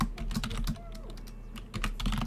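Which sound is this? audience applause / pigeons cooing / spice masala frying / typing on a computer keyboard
typing on a computer keyboard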